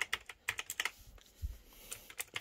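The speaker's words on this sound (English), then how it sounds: "Yes, it makes a lot of noise like a damn typewriter, but I just love the way how the keys feel." Rapid clacking keystrokes on a Logitech G512 Carbon mechanical keyboard, an uneven run of sharp, close clicks and taps with a brief pause midway, no voices over it.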